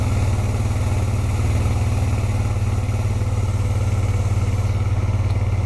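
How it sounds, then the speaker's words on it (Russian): A cold 2002 Honda XL650V Transalp motorcycle engine idles on choke loudly and steadily up close, a low, even, throbbing chug with a rough mechanical clatter on top. "Завелся на подсосе, потому что мотоцикл холодный."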